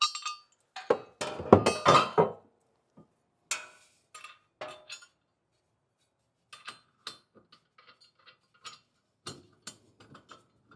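Small steel hardware clinks sharply as a split washer and nut are fitted onto a B&W Companion fifth-wheel underbed hitch, with scattered metallic ticks and taps, a busy cluster early, then sparse light clicks.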